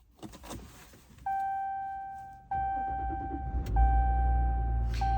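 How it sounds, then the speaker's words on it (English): A 2023 Ram 1500 EcoDiesel pickup engine cranks and turns over, with repeated electronic chimes sounding at regular intervals as the motor settles into a low idle. "I'm gonna start the vehicle, then start my timer."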